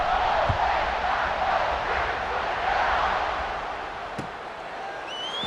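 A packed stadium crowd roars in EA Sports College Football 26 at a Hokies game. The broad, steady wash of cheering fades slightly toward the end, with a sharp thud partway through.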